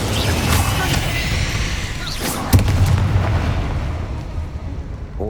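An Incendio fire spell cast in Hogwarts Legacy, a deep booming blast followed by a sharp burst around the middle, then a sustained roaring rumble that slowly fades.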